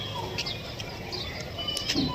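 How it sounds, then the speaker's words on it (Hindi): Pigeon wings flapping in flight amid faint chirps and coos from nearby birds, set against a steady outdoor background hiss. "तो ये कबूतर उड़ तो रहा है सामने यहाँ पे"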